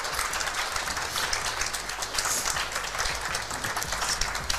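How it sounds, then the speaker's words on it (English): A room full of people at an Omaha restaurant gathering gives a round of applause, producing loud, dense, continuous clapping that stays steady for several seconds. "Can we give them a round of applause, everybody?"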